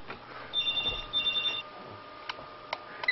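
A telephone ringing in short electronic trills, two bursts close together, fairly faint against a quiet background with a few soft clicks afterward.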